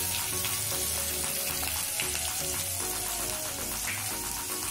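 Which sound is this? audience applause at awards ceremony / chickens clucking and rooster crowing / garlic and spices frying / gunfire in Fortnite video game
garlic and spices frying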